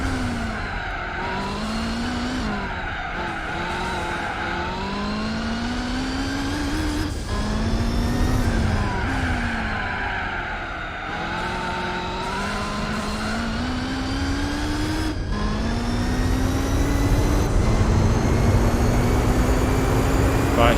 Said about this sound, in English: Right, hear the engine roar,